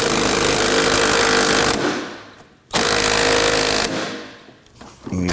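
Power tool loosening 14mm front strut nuts through a swivel and extension on a 2018-2024 Toyota Camry: two loud rattling bursts, each winding down before stopping.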